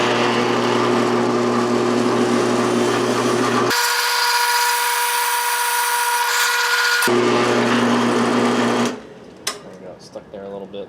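A power tool cuts through a part clamped in a vise, running loud and steady for about nine seconds, its tone shifting partway through as it bites in, then stopping and leaving a few light clicks and handling noises.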